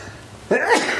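A single sharp human sneeze bursts out loud and close during an indoor interview, brief and alone.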